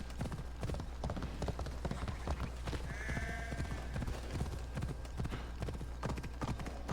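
Horse hooves clip-clopping in a steady, rapid gallop rhythm while riding past a mountain in Assassin's Creed Odyssey, loud and continuous, with a brief whinny-like tone midway.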